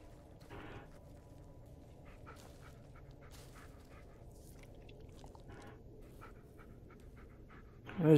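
A dog in the Blair Witch video game pants steadily with soft whimpers and small snuffling sounds, close by and moderately quiet, ending with a brief louder burst.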